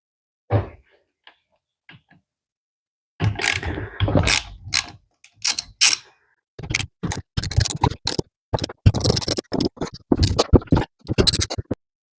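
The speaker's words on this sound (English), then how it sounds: "I can just take them off with this ratchet" A hand ratchet clicks in quick bursts while loosening aftermarket Allen head engine studs, with sharp, close ratcheting strokes separated by short pauses and a few isolated clicks at the start, and no voices.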